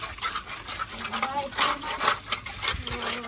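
Wheat grain being washed in water to rinse out dirt, with steady splashing and sloshing running throughout under a person talking.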